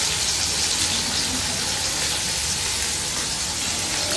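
Fresh tomatoes sizzle in hot oil as they go into a frying pan during home cooking of a fish curry, a steady, close, broadband crackle that holds evenly throughout with no talking.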